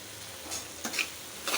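A mashed side dish fries quietly in a pan, with a few soft stirring scrapes breaking through the faint hiss.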